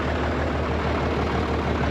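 A Case 970 or McCormick-Deering W9 vintage tractor engine idles in a steady, close, loud low rumble with no talking.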